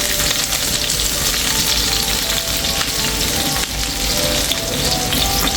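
Garlic, onion and chili sauté together in a hot pan, giving a loud, steady, dense sizzle that runs unbroken throughout with no voices.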